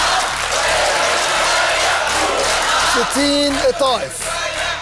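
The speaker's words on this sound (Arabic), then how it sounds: "تشجيع مثالي في الاستوديو" Studio audience cheering and shouting on an Egyptian school quiz show final, a loud sustained crowd roar with whoops rising over it near the end, and a voice cutting in briefly.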